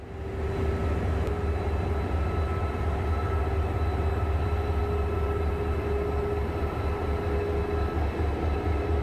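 The V-train, a Korean mountain canyon tourist train pulled by a diesel locomotive with a power-generating car, heard as a steady, loud rumble with a constant low drone and a faint tonal whine, continuous throughout.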